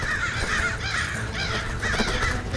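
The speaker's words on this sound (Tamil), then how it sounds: "இந்த காக்காவெல்லாம் வெளியில விரட்டு." Several crows caw loudly and repeatedly around a palace, harsh rasping calls following one another in a close, continuous flurry.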